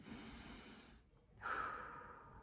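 A person takes a single deep breath, a soft airy inhale followed by a stronger exhale, close and clear with no talk.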